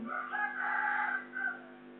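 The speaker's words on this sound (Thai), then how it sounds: "ไก่ขันอีกแล้ว" A rooster crows once in a drawn-out, harmonic call that rises and then tails off with a short final note, fairly close and clear, with no talk over it.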